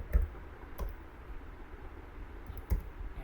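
Keys on a computer keyboard are struck while typing a command, making a few sparse, soft clicks spaced out over a quiet room background, with no speech.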